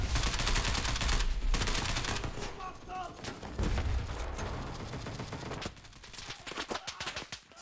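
Rapid gunfire from the Enlisted game, bursts of automatic shots mixed with single cracks and distant fire, loud and nearly continuous before thinning toward the end.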